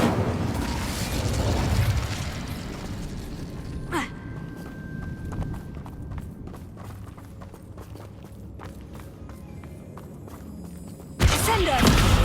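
A fire spell cast in Hogwarts Legacy: a loud opening burst tailing off, a sharp magical zing partway through over footsteps and game ambience, then another fiery blast near the end.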